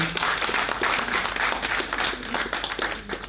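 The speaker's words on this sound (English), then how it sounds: "Shall we give her a round of applause, please?" An audience applauds the host at an evening community awards event, steady dense clapping at moderate level throughout, with faint voices mixed underneath.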